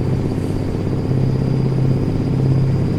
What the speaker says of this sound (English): turbo whistle is a little more prominent